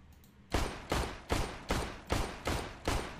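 Gunfire in Counter-Strike: Global Offensive, seven sharp loud shots fired at an even, steady rhythm roughly every 0.4 seconds, each with a short decaying tail and no talk over them.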